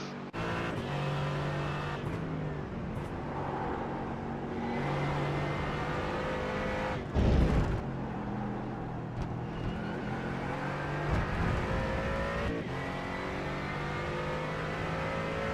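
Onboard ride in a Toyota GR86 race car at speed during a mixed sprint race, the engine droning steadily with rising and falling revs through gear changes, plus a brief heavy thump midway, with no talk.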